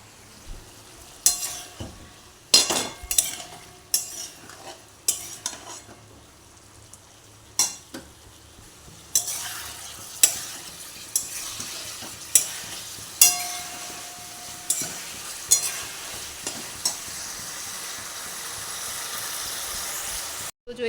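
Cauliflower and potato sautéed in a pan, a soft continuous sizzle punctuated by about a dozen sharp, regular spatula clanks and scrapes against the metal, close up and without speech.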